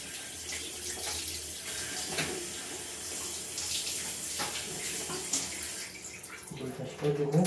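Water from a tap pours steadily while hair is being rinsed of shampoo, a close, continuous splashing hiss with small shifts as the flow hits the hair and the basin.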